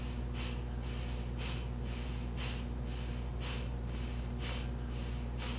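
Rhythmic panting breaths during a Kundalini yoga breathing exercise, a steady series of about ten quick, close, breathy puffs evenly spaced over a low constant hum.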